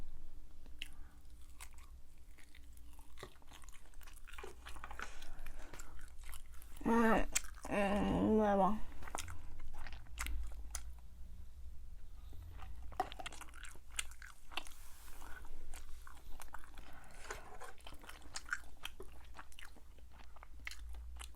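Chicken feet dipped in injeolmi powder are chewed up close in a quiet room, with soft wet bites and crunches repeating through a long stretch. A brief voiced murmur sits in the middle.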